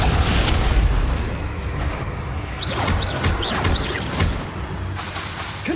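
Spell explosions from Bombarda and Confringo in the video game Hogwarts Legacy: heavy, rumbling booms and blasts fill the soundscape, with chirping spell effects and crackles layered over a dense roar.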